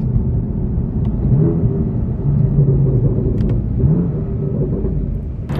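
A new car's engine rumbles steadily while driving, with pitch shifts as it downshifts, a continuous close low drone with road noise and no talk.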